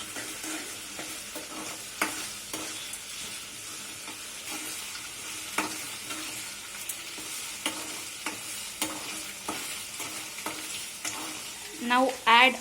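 Ginger garlic paste stirred into frying food in a pan for a potato fry, a steady sizzle with repeated scraping strokes of the spoon and a louder clatter near the end.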